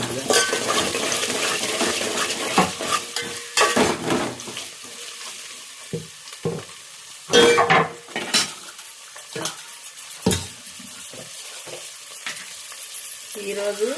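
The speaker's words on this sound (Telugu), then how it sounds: "ఉల్లిగడ్డలు వేసేస్తున్నాం కదా. ఉల్లిగడ్డలు వేసేసి" Chopped onions sizzle and fry steadily in hot oil in a pan for a home-cooked chicken curry, with occasional louder scrapes and clinks of a spoon stirring against the pan.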